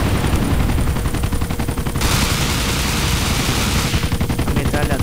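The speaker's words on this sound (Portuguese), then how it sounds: "A metralhadora aqui do Hunter tá muito louco também, ó." Rapid, loud bursts of machine-gun fire from the Hunter attack helicopter in GTA San Andreas, fitted with a GTA V sound pack, rattling continuously at close range with a brief shift in tone midway.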